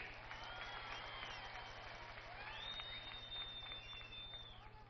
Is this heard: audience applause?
yes